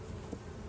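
Honey bees hum steadily around an opened hive during an inspection, a continuous close buzz with no voices.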